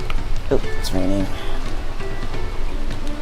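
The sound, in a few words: rain in the video game Final Fantasy XIV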